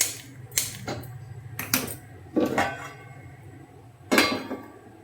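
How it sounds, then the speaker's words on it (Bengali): A nonstick frying pan is set on a stove, producing four sharp metallic clacks and knocks spaced apart over quiet room tone, with no voices. "একটা ফ্রাইং প্যান বসাবো, মানে ননস্টিকের"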